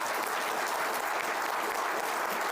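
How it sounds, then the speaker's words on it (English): A round of applause from the audience at a county commissioner debate, dense continuous clapping at an even level from start to finish with no talking over it. "give everybody a round of applause for that"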